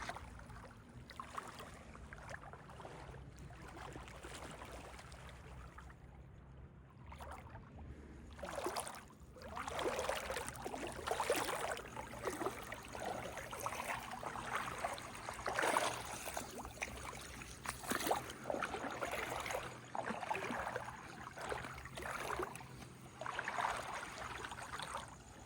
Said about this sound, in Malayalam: ഒരു ബോട്ട് പോകുന്നുണ്ട്.